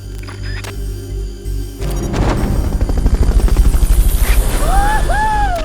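A Fulton recovery helicopter in Metal Gear Solid: Peace Walker approaches after a mechanical clunk, its rotor building into a loud, rhythmic thumping chop with a rising whine and electronic chime tones near the end.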